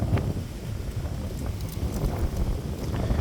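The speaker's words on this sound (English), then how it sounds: "but the wind is also coming out to play." Wind gusting outdoors and buffeting the microphone, a steady low rumble of wind noise running through the whole stretch with no talk.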